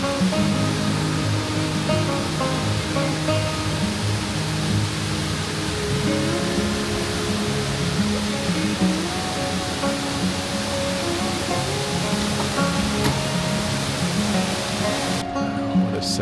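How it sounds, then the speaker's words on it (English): Mill Creek Falls, a waterfall near Maggie Valley, gives a steady, full rush of falling water that stays loud and even throughout, with no talking over it. "Maggie, there's a waterfall."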